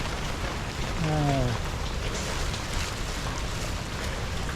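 Rain falling steadily on a flooded low spot of a road, a continuous wash of drops with a brief tonal whine near the start.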